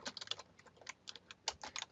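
Quick bursts of typing on a computer keyboard, crisp clicking keystrokes in uneven clusters, close and fairly quiet with no talking.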